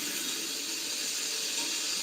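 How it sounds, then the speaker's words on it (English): Food sizzles on a hot grill in a Chipotle commercial, a continuous, bright, even hiss that holds at a steady level from start to finish, with no voices. "That sizzle, that's the soundtrack of Chipotle."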